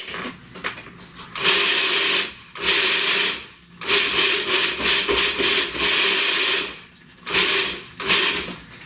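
Food processor pulsing chopped coconut for a Nanaimo bar cheesecake, several short bursts of whirring blade noise of a second or two each, separated by brief pauses, close and loud with no talk.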